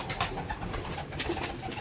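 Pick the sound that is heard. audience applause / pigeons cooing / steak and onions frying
pigeons cooing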